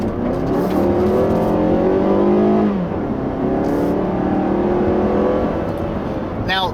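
The engine of a 2016 Mazda3 GT Hatchback with an automatic transmission accelerates hard, its loud rising drone climbing in pitch, dropping briefly at a gear change, then climbing again. A voice talks over it.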